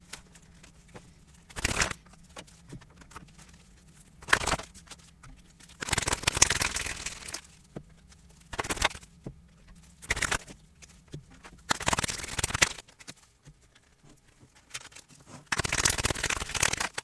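Tarot cards shuffled during a reading, with repeated short riffling bursts of card shuffling recurring every couple of seconds, fairly close and clear with no talk over them.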